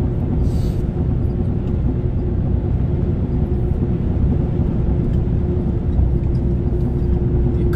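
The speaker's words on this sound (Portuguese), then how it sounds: "Agora aqui vou dar uma aceleradinha para chegar nos 80 para poder, né, pegar essa subidinha." A Volvo FH 460 bitrain truck accelerates toward 80 km/h before a small uphill climb, heard from inside the cab as a loud, steady low engine drone with a constant hum.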